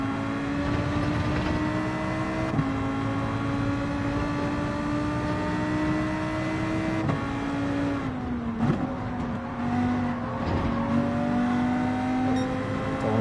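Sustained car engine racing in Gran Turismo 7 while following close behind a Supra, a steady high engine drone with slight pitch shifts and a brief dip near the end, loud and continuous without talk.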